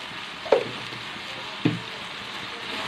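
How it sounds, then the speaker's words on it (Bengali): Spice paste for a soybean curry fries in a pan with a soft, steady sizzling hiss, broken by two clear knocks of a spoon stirring. "মশলাটাকে ভালো করে কষিয়ে নেব।"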